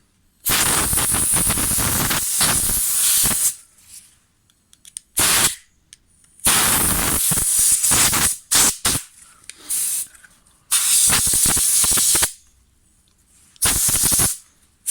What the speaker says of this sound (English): if you've got an airline, this is nice and easy with an airline. Just put your airline at the top, work your way down.